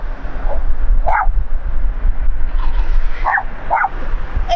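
Several dogs from a household of six give short yips and bow-wow barks with a few whimpers, in scattered bursts close by over steady background noise.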